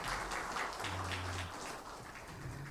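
A church congregation claps together for the choir during a Sunday service, a dense, steady patter of applause that softens slightly toward the end.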